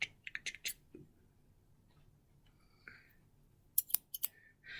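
Small Eiffel Tower embroidery scissors are handled close up, giving a few crisp snips and metallic clicks in short bursts separated by quiet pauses.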